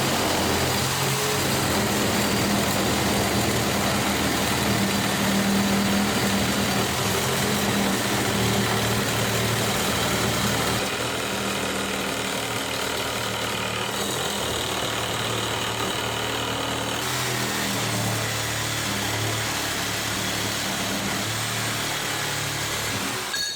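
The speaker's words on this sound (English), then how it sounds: "I'm finishing up here with a fine tooth blade on a jigsaw" An old, ragged jigsaw fitted with a fine-tooth blade cuts in a garage workshop, giving a continuous close, loud buzzing whine that shifts in tone midway, with no talking.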